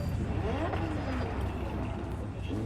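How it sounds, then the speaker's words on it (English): Car engines in the Cyberpunk 2077 video game rumble and drone steadily across the whole stretch, with passing-traffic sweeps layered over a dense low hum and no clear break. "Well, that's a lot of cars noises."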